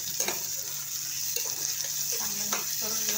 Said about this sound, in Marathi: चांगलं मिक्स करून घेऊन परतून घेऊया टमाटर कांदा आणि लसूण